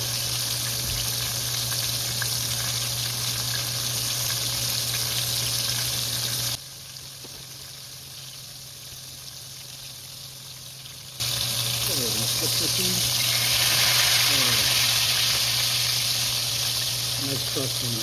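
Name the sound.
chicken fried steak frying in pan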